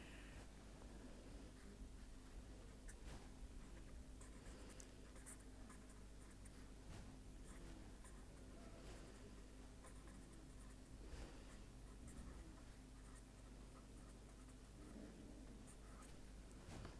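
A pen scratches across paper during an engineering lecture on integrals, making steady, faint writing strokes that continue for a long stretch against a quiet room hiss, with no one speaking.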